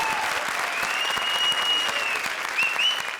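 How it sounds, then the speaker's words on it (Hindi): Studio audience applauding Prince on a comedy show stage, a steady, dense wash of clapping that holds at full strength for the whole stretch, with a faint whistle-like tone riding on top. "जोरदार तालियां प्रिंस के लिए।"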